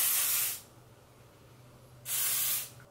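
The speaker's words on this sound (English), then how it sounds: "I'm gonna do this shine spray and just finish off this look" Hair shine spray is released from an aerosol can in two short hissing bursts, close and fairly loud, with a quiet pause between them.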